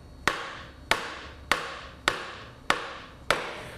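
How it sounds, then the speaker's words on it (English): Six heavy, dull dead blow hammer strikes on a 2002 Harley-Davidson Road King transmission main shaft land at a steady pace about every half second, each a sharp thud with a short ringing decay, loud and close. "I want to force with the dead blow hammer that main shaft inward"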